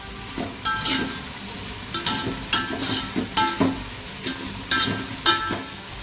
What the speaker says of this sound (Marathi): चांगलं फ्राय करून घ्यायचं आपल्याला